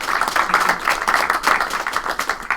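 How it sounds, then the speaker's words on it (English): Seminar audience at an AI ethics event applauds continuously, a dense, lively patter of many hands clapping close by with no talk over it. "Let's give a big round of applause to Minna."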